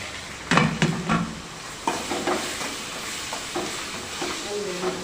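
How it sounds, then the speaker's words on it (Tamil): Green mango pieces stirred in a pan with chili powder and salt make a close sizzle with repeated scraping strokes of a spoon, loudest at the start and continuing in irregular bursts. "அதுக்கப்புறம் லாஸ்ட்டு மாங்காவை போட்டு கிண்டிக்கலாம்."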